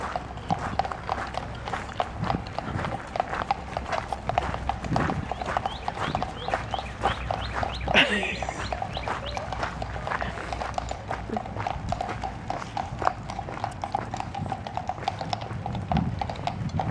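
Rapid rhythmic clip-clop of carriage horse hooves, steady and fairly close, continuing throughout with a brief scraping burst midway, in Colonial Williamsburg.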